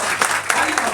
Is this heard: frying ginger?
no